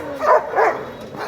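A seven-month-old dog gives two short, fairly loud barks close by, with a fainter third bark near the end.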